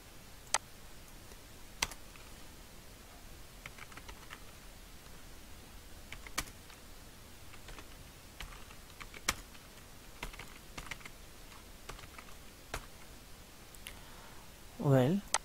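Sparse, faint clicks of typing on a computer keyboard while text is entered for a title in Filmora9 video-editing software, scattered quietly over steady room hiss with a short louder burst at the end.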